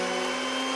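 A blender whirring as it mixes papaya, orange and melon, a loud, steady motor drone with a strong hum, brief and continuous.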